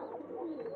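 Flying pigeons kept for high-flight release cooing, a short, soft, low throaty coo heard close by with no talking.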